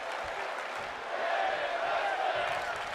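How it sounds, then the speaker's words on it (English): Arena crowd in the wrestling video game WWE 2K25 roars steadily through a women's match, a broad sustained wash of cheering that swells louder midway, with a commentator talking over it. "The crowd loving this matchup."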